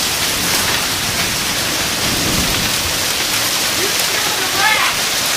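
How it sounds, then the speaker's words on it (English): Heavy hail from a severe thunderstorm in Herrin, Illinois, pounds down in a dense, continuous hiss and clatter, with a voice briefly exclaiming near the end. "That's hail. Lots of hail."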